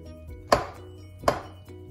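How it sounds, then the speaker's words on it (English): Knives cutting butter into flour in a bowl, two sharp close chopping strikes spaced under a second apart against a quiet background. "cut this butter into the flour"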